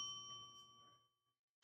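A single bell ding with a clear ringing tone that decays over about a second into silence, followed by a sudden loud burst of noise.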